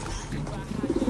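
A Taiwan pigeon, a blue bar bird, coos while held in the hand: a brief, close, low burst of soft repeated coos near the end, with faint background sound.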